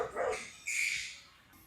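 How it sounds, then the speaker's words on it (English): Dog barking inside an RV, two short sharp barks in quick succession, fairly close but soft, followed by quiet. "Why is she barking at us?"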